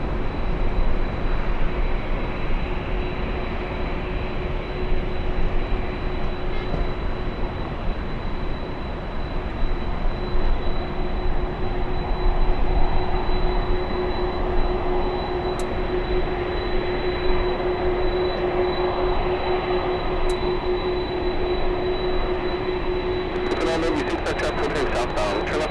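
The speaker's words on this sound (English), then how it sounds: "Wow, two Ospreys flying over LAX." Two V-22 Osprey tiltrotor aircraft fly over LAX, giving a steady, droning rumble with a sustained tonal hum throughout, under background noise.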